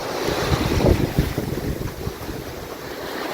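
Strong wind buffets the microphone aboard a sailboat rounding a big headland near Orkney, with rushing water and waves underneath, steady and loud, no talking.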